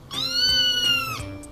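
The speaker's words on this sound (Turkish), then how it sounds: "kedilerin sesi bu" Several cats meow indoors at home, a loud, close, drawn-out cry with rising and falling pitch, followed by shorter mews.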